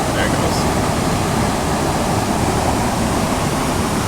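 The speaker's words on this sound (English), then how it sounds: "Beautiful waterfall." Waterfall at a Wisconsin trout stream on the 4th of July, a steady, loud broadband roar of rushing water that holds constant throughout without breaks.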